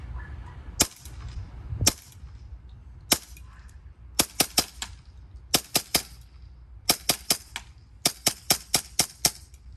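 A Novritsch SSP-5 airsoft pistol fires a string of sharp, close snapping shots, first spaced singly and then in quick bursts of two to five, each crack short and crisp against a quiet background.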